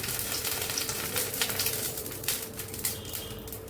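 Spice paste of ground cumin and green chili hits hot oil and sizzles loudly, with crackling bursts and spatters over a continuous frying hiss, close by with no voices.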